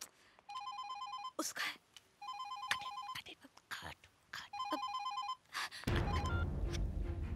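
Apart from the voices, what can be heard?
telephone ringing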